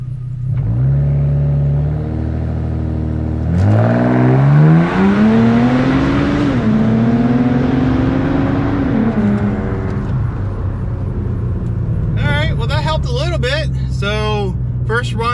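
A 2014 Ford Taurus SHO with a twin-turbo V6 launches off a soft boost, its engine droning loud from inside the cabin as revs climb hard through several upshifts, then easing off while someone talks over it.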